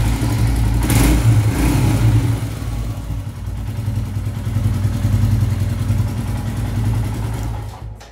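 A Royal Enfield Himalayan motorcycle engine runs steadily and loud, close by, with a low throbbing idle that swells slightly as the throttle is blipped, then settles, continuous throughout without any talk.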